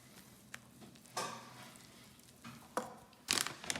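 Chocolate cake batter with sugar is stirred in a bowl, making a few soft scraping and knocking sounds at irregular intervals, close and fairly quiet, with a louder clatter near the end.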